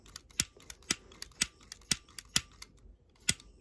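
A lighter is clicked over and over to ignite it, giving a string of sharp, close, irregularly spaced clicks with brief gaps, alone and without talk.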